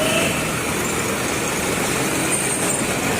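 A Swaraj 744 tractor engine idles at a tractor market in Moga, a steady, low drone running unbroken throughout, a loud rumble with a constant broadband noise and no voices.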